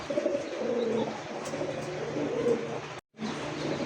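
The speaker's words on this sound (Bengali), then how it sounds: "দেখতে পাচ্ছেন খুব সুন্দর ঘিয়া কালারের মধ্যে একজোড়া হাই ফ্লার কবুতর" A pair of cream-coloured high flyer pigeons coo softly and steadily at close range in a caged setting, with low murmuring throughout and a brief dropout near the end.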